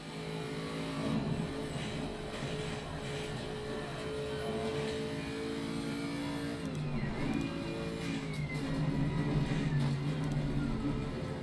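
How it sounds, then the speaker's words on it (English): Onboard a Toyota Camry Supercar on an outlap of Mount Panorama, Bathurst, the engine drones steadily and loudly, with a gear change and a dip in revs midway before it builds again. "just for you, Nick and Ollie, a bit of a lap guide round the Mount Panorama in the mighty Camry"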